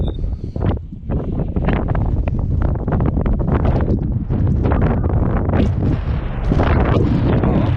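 Strong gusty wind on Buachaille Etive Mor, a mountain in the Scottish Highlands, roaring and buffeting against the microphone in loud, uneven surges throughout.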